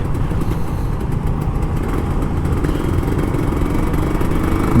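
Kawasaki Ninja RR two-stroke motorcycle engine running steadily and close, a continuous low throaty drone with a slight rise near the end, no one speaking.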